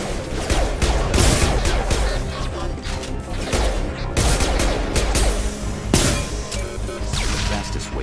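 Rapid, loud bursts of shotgun and other gunfire crack repeatedly during a firefight in the Mass Effect 2 video game, with dense overlapping impacts and sharp blasts throughout.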